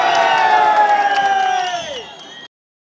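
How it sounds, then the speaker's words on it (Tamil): DMK party workers at a roadside election gathering cheer and shout as a passing leader's vehicle goes by, a loud dense crowd roar with whoops that fades out over a couple of seconds and cuts off. "உதயநிதி ஸ்டாலின் வருகைக்காக காத்திருந்த திமுக தொண்டர்கள் அந்த வழியாக சென்ற அமமுக துணை பொதுச் செயலாளர் திரு டிடிபி தினகரனை ஆரவாரம் எழுப்பி மகிழ்ச்சியுடன் கையசைத்து அனுப்பினர்"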